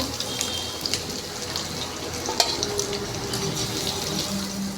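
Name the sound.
potatoes frying in oil with salt and turmeric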